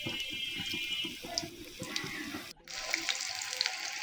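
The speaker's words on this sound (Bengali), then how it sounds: "এগুলো ভালো করে ভেজে আমরা একই ভাবে সবগুলো চিকেন পকোড়া ভেজে নেব।" Chicken pakoras fry in hot oil, a continuous crackling sizzle with scattered pops; partway through there is a brief break before the frying hiss returns, brighter and louder.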